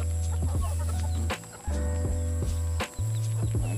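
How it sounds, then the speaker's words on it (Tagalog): Several chickens cluck and chatter close by over a steady low hum, with short sharp pecking sounds between calls. "Alaga nating manok dito yan. Nakakatuka na ang mga yan."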